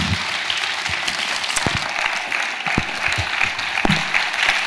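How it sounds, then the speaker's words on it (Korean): A church congregation stands and warmly applauds as their pastor comes forward at a Friday night service: a thick, steady wash of clapping from many hands, broken by a few low thumps and knocks, with no voices. "뜨거운 박수로 목사님 맞이하시겠습니다"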